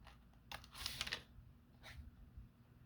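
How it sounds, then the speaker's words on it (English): Scissors cutting along a line on recycled envelope paper, a few soft crisp snips clustered together, then a lone cut after a pause, quiet and close with no voices. "cut along here"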